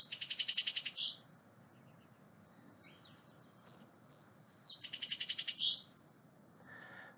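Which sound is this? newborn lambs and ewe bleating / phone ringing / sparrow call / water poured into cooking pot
sparrow call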